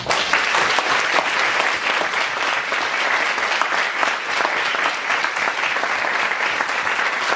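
Steady, dense applause from an audience at a university book presentation, continuous and loud throughout with no talk over it.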